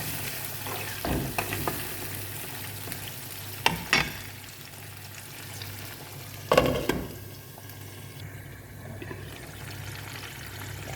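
Garlic cloves and green chillies drop into hot oil in a pan for a tangy mango fish curry, sizzling and frying steadily with a few stirring clatters, close and alone without talk.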